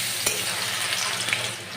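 Garlic paste hits hot oil with bay leaves, cloves, cardamom and cinnamon, giving a loud, close, crackling sizzle with a short spatter burst near the start and stirring throughout.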